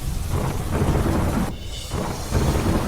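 Thunder rumbles through a heavy downpour during a monsoon storm in Himmatnagar, with steady, dense rain noise that dips briefly midway and then returns loud and close.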